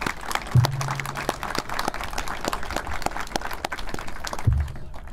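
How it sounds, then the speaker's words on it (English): A crowd applauds the Adams County Sheriff's Office Honor Guard at a memorial wall ceremony, with steady dense clapping throughout and a couple of brief low tonal sounds underneath. "About a round of applause for our Adams County Sheriff's Office Honor Guard."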